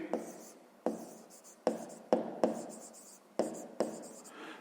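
A pen writes on paper as a 5th-grade math problem is worked out, giving a series of quick scratchy strokes in bursts separated by short pauses. The sound is close, soft and clear, with no voice over it.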